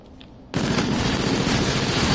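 Rapid, sustained gunfire erupts suddenly in a PS4 shooting video game, a loud, dense, continuous roar of shots after a brief quieter moment, with no talking over it.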